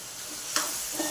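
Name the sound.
turmeric and salt sautéing in a pan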